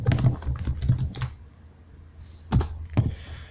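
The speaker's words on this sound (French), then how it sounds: "Dans la barre de commande, je tape la commande renommer." Typing a command into AutoCAD's command bar on a computer keyboard: a quick run of key clicks, a pause, then two louder isolated keystrokes, close and clear with no voices.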